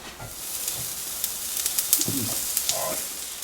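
Cumin, sesame seeds and asafoetida fry in hot oil in a pan. The close sizzle is soft and steady, with small crackles and pops scattered through it.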